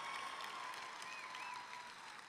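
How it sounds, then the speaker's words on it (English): A stand-up comedy audience breaks into a brief wash of applause and cheering, heard faintly from a distance as a steady, crowded clatter of hands. "I don't know why you're cheering about this."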